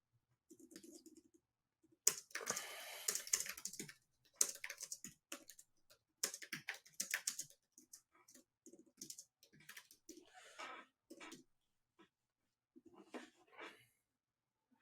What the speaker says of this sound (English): So let me type this in right now.